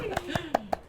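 Four sharp hand claps in quick, even succession in a podcast studio, close and crisp, sounding over a voice that keeps talking.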